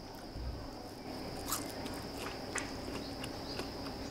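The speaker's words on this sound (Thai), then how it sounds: "นี่เสียงความกรอบไหมคะ" Crispy fried crickets crunch between the teeth, a few faint, sharp bites spaced about a second apart over a quiet background.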